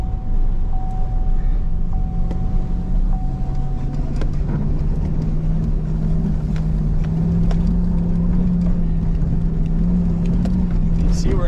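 A truck on chained back tires in four-low grinds up a loose snowy hill in northern Maine, its engine droning loudly and steadily throughout with rising pitch.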